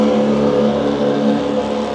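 An Aston Martin Valkyrie hypercar idles along on its pit limiter during a WEC prologue in Qatar, producing a steady, loud, buzzing engine drone nearby without change in pitch.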